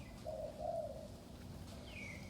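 A spotted dove used as a decoy bird coos twice in low, mellow notes at moderate distance, followed by a brief higher chirp near the end against steady outdoor background noise.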